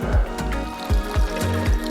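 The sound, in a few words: stream water trickling, filling a bottle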